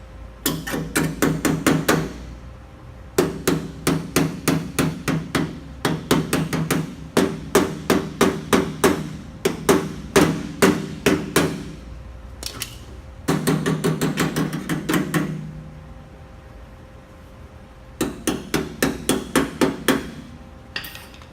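Hammer tapping a 1971 Mustang door panel into place during rust repair: rapid bursts of light, ringing metallic taps in quick runs separated by short pauses, close and crisp, with no talking.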